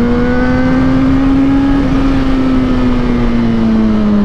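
A Honda Pop 110 motorcycle engine runs with a steady, close, loud hum and a strong low tone that drifts slightly in pitch, with no voices.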